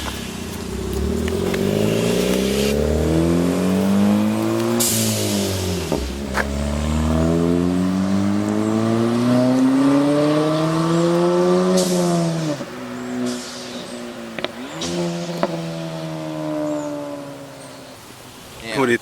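A Ford Fiesta with a new downpipe and exhaust revs hard in repeated rising and falling sweeps, loud and close, with a few sharp throttle blips toward the end.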